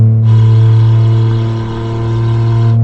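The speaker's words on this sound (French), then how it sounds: "et c'est un bruit de 4 cylindres." A car engine running on four cylinders, steady at a smooth, even pitch, close and loud, with a faint dip and recovery in the middle.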